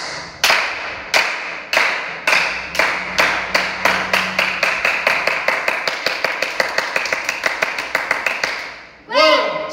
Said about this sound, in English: Let's start clapping in slow, start spinning up